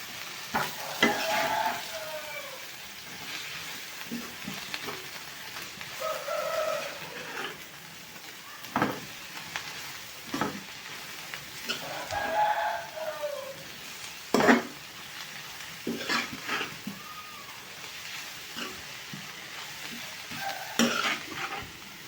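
Shrimp and lightly crushed ingredients stirred together in a pan, with a spoon scraping and clattering in repeated strokes over a low sizzle, close and moderately loud, no talking.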